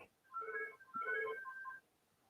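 A telephone rings in an indoor setting, its electronic tone sounding in two short bursts around a second apart, clear and fairly close, with no one speaking over it.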